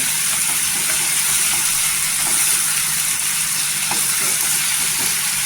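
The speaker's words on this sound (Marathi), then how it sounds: "इथे छान अशी परतून घ्यायची तेलावर." Vegetables and spices sautéing in oil in a pan for a quick spicy tomato chutney, a loud, steady sizzle and hiss running unbroken throughout.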